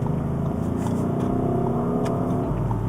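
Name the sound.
sporty SUV engine accelerating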